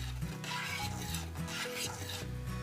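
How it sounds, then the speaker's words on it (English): Boiling elderberry syrup is stirred in a pot, a continuous close scraping and swishing over a dense bubbling roar with low, steady tones underneath. "So the syrup has come to a boil. I'm going to give it a little stir here."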